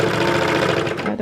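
A serger finishing a fabric seam on a skirt runs in a steady, fast, close mechanical whir for just over a second, with no voices.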